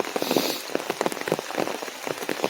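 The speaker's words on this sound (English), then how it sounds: "It does suck less being out here in this rain" Rain patters steadily on surfaces around a hiker on the Appalachian Trail in Virginia, with dense, close drops tapping irregularly throughout.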